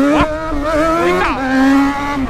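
A Yamaha XJ6 motorcycle, said to run a CB300 engine, revs hard in a few sharp throttle blips with rising and falling pitch, loud and close.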